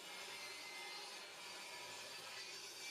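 A saw cutting through 1/2 inch plywood, a steady, loud rasping that fills the whole short stretch without pause, with no voices.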